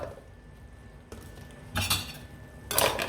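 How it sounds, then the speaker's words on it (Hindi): Minced chicken keema being added to a pan and stirred, a few sharp clinks and scrapes of a spoon against metal in short bursts, with a light sizzle underneath and no talk. "अब इसमें मैं चिकन का कीमा ऐड कर दूंगा।"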